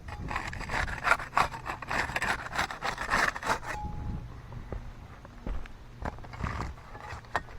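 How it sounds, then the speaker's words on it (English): A putty knife scrapes and pries under an asphalt roof shingle to break its seal, with rough scraping and rasping strokes, denser in the first half, then sparser clicks and taps close by. "We'll get started with the putty knife. We'll use that to unseal this top shingle here."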